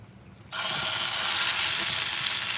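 Liver hits hot coconut oil in a pan with a sudden loud sizzle after a brief quiet moment, then a steady, close frying hiss continues to the end.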